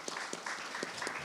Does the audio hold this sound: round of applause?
yes